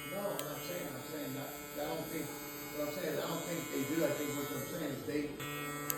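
Electric hair clippers buzz steadily while tapering and fading the neckline during a barber haircut, a constant close electric hum running through the whole stretch, with a voice talking over it.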